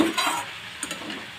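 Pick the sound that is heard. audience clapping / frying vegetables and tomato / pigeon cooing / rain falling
frying vegetables and tomato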